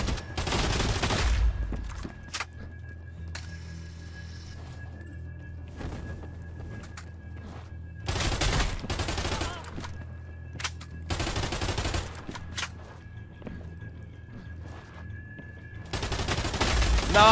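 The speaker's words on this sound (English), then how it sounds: "Yep, there's a shotgun." Shotgun fire in a VR video game, heard as a few loud, dense bursts of gunfire separated by quieter stretches with a steady game tone underneath.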